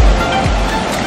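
Waterfall in a renovated village riverbed, running at about 2,000 gallons a minute, gives a loud, steady wash of rushing water close by, continuous through the moment with no break.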